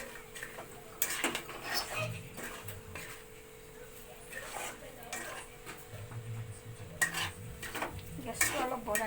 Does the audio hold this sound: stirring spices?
yes